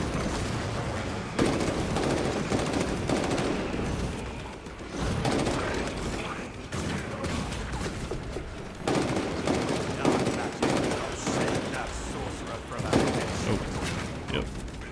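Rapid bursts of Instigator Bolt Carbine gunfire in a Warhammer video game, firing in repeated volleys with brief gaps, loud and close, mixed with game effects and a voice talking over it.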